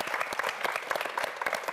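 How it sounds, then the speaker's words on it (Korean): Studio audience at a Korean TV quiz show applauds steadily throughout, dense overlapping claps at close range with no voices over it. "다시 한번 오늘 킹왕짱이 된 류병규 학생에게 큰 박수 부탁드립니다"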